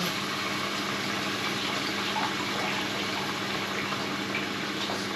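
Red wine pours from a bottle into a pot of beef bourguignon, a continuous gushing, splashing fill that stays steady and close throughout with no voices.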